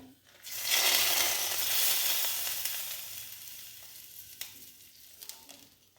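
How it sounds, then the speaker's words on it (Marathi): Four dried red chillies hit hot oil as a tempering for a thin fenugreek (methi) curry, bursting into a loud, close sizzle that slowly fades, with a few small crackles near the end. "तेलामध्ये छान असं परतून घेऊ यामध्ये टाकूया आपण चार सुक्या लाल मिरच्या हा तडका आपण या भाजीला देऊया"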